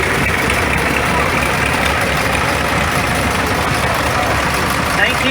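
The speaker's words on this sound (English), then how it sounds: "1950, Case, Model DC, Chris Campbell, from all the way from Pennsylvania" A 1950 Case Model DC tractor engine runs steadily during an old engine show parade, a continuous loud rumble mixed with crowd noise and an announcer talking over it.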